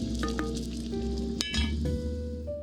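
Pasta simmering in a pot for a vegan one-pot dish with butternut squash, spinach and smoked tofu, stirred with a bubbling hiss, a few clinks and scrapes against the pot, and a strong sudden clatter midway; no voices.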